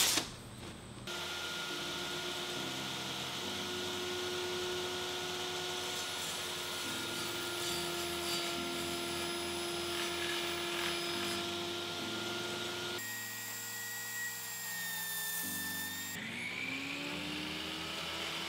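A power saw cutting 2x2 wood strips into segments, a steady, loud motor whine with sustained tonal lines that shift pitch as the blade loads, continuous for the whole stretch with no talking.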